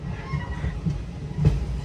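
Venkatadri Express running on the tracks past Falaknuma station toward Kachiguda, a steady low rumble of wheels and carriages with a brief louder clatter near the end.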